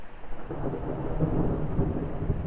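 A rolling rumble of thunder runs under steady rain during a storm, sustained and moderately distant, with no voices.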